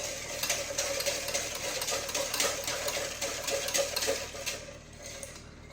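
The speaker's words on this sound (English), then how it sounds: "so I just use a whisk." A whisk stirring sugar into an ice cream base to dissolve it, a steady rapid rhythmic tapping and scraping against the bowl, close and moderately quiet, fading slightly at the end, with no speech.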